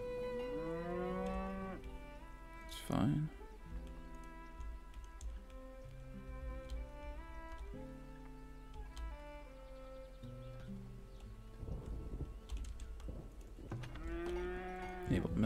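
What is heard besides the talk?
cows mooing in the video game Farthest Frontier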